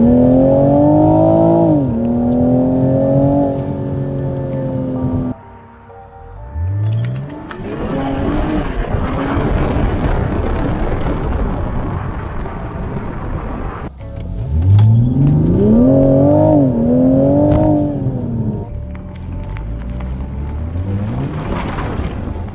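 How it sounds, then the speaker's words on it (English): A stock exhaust on a 2020 Toyota Supra during a test drive, revving loudly through rising and falling gear pulls with a noisy stretch of road and wind roar between the accelerations. "the stock exhaust really does sound nice, and it's got some like pre-programmed pops and bangs in it."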